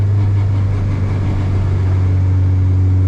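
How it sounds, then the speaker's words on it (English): Supercharged Honda K24 engine running steadily with a strong low drone and constant loudness, no clear rev rise or fall, close and alone. "I feel like it sounds, when you just lay into it a little bit, I feel like it sounds all motor still."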